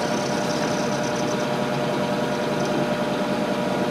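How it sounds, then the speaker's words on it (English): An end mill cuts steel on a gear-cutter arbor setup, producing a steady, dense machining whir with a rough grinding texture, constant and fairly loud throughout with no talk. "Make sure that I've got that end mill cutting all the way across."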